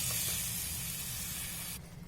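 Tomato paste hits a pan of sautéed onion for a bitter gourd tamarind curry, making a steady, close hiss that cuts off sharply near the end.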